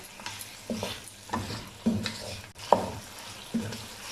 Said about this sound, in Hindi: 1 मिनट के लिए नमक मिर्चों को भून लेंगे।